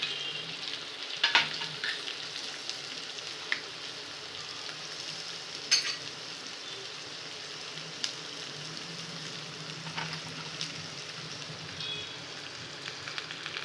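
Onion, cumin and mustard seeds frying in a small bowl's worth of oil for masale bhat, a steady close sizzle with a few sharp pops and crackles scattered throughout, no talking.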